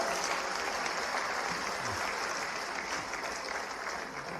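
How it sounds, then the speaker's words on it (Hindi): An audience claps loudly and continuously throughout, a dense sustained applause at a public ceremony where people receive awards and jobs. "अपने आप के लिए भी जोरदार तालियां।"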